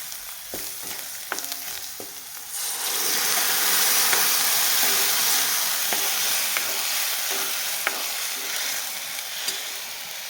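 Yogurt for dahi tadka sautéed in a hot pan, a few spoon clatters at first, then a loud, dense frying hiss that swells and holds steady while faint stirring taps recur throughout.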